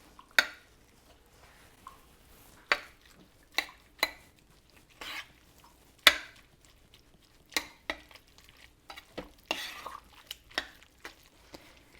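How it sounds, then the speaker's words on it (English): Spoon stirring Tex Mex chicken in a large oversized slow cooker: a series of sharp clinks and scrapes against the crock at irregular intervals, close and moderately loud, with no talking. "when I stir it up."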